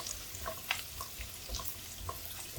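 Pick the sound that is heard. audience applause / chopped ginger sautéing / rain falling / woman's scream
chopped ginger sautéing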